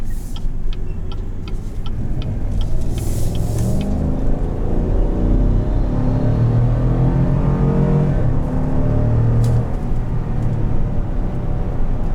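A 2020 Chevrolet Suburban Premier SUV engine runs steadily and loudly throughout, its low rumble swelling as it accelerates under power, with faint ticking clicks near the start.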